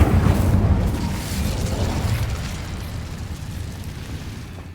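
An Incendio fire spell in Hogwarts Legacy bursts in a loud, close, low roaring whoosh that starts strong and slowly fades over several seconds.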